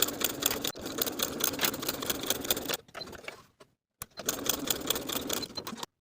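A sewing machine runs in fast, steady stitching bursts while basting pinned pieces of wide-leg fly-front pants, pausing briefly twice before resuming, loud and close.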